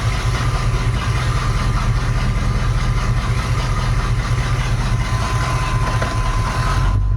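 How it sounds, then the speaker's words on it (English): A Chevrolet C1500 pickup's V8 engine idles in gear, a loud, steady low rumble with an even throb that holds unchanged for several seconds before cutting off abruptly at the end. "let's just see now when we have it in gear how low the idle gets"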